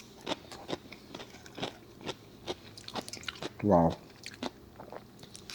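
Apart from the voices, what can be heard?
crunchy chewing of spicy Korean cucumber salad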